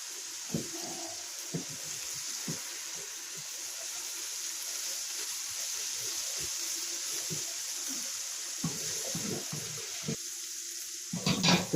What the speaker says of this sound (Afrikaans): Dit sous begin kook.